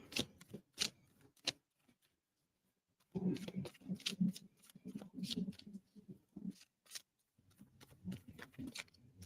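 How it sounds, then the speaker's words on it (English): Animal oracle cards shuffled by hand, a run of crisp riffling bursts and flicks, with quieter pauses between handfuls and a stretch of denser card rustle in the middle. "Let me shuffle these cards."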